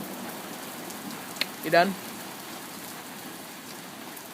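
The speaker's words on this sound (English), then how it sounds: "it's raining." Rain falls outdoors in a steady, soft hiss, with a brief spoken voice rising over it partway through.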